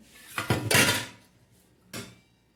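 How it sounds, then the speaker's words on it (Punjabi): Dishes and pots being washed clatter in a few quick, close bursts, with a scrape in the middle and one more knock after a pause; no talking. "ਭਾਂਡੇ ਰਹਿ ਗਏ ਮਾਂਜਣ ਵਾਲੇ ਇਹ ਮਾਂਜਦੇ ਆ"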